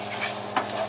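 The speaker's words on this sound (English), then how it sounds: "Stir that around." Chopped onion sizzles in a pan while being stirred, a steady frying hiss with a brief scraping swish of the spoon midway through.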